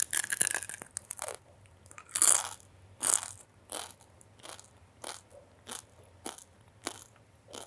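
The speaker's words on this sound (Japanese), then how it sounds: "食べる時の音に注目してください" Crisp bites into a grape-flavored gummy candy, followed by a rhythmic series of short, sticky crunching chews, close to the mouth in a quiet room with no talk.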